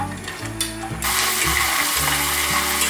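Peanuts fry in oil in a pan for a vegan cabbage-and-peanut dish. A quieter sizzle swells into a loud, dense, continuous frying hiss, with no talking.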